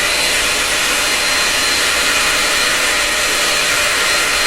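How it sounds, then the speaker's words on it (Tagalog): An iTeracare blower runs at a loud, steady, airy whoosh right beside the microphone, unbroken for the whole stretch. "So, subukan naman natin yung blower ng iTeracare. Ayan, 0. Switch on natin."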